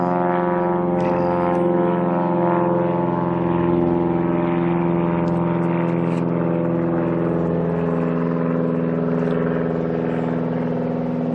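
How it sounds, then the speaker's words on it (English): An airplane flies by, heard as a steady, loud droning hum with strong layered engine tones that holds for about eleven seconds, with no talking. "Let our plane go by."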